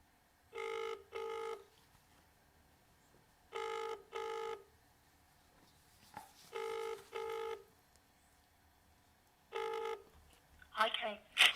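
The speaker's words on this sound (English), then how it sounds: "we are going to try again with a phone call. So let's see if we can actually get them on the line" A telephone on speakerphone rings out in repeated double bursts, four paired tones spaced a few seconds apart, followed by a brief burst of sound as the call connects.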